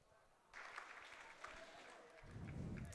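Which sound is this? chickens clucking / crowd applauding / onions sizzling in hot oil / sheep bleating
crowd applauding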